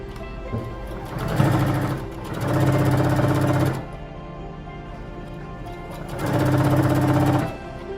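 A domestic sewing machine stitches canvas and lace for a neckline, running in two steady bursts separated by a pause, its rapid needle chatter loud and close with a motor hum underneath.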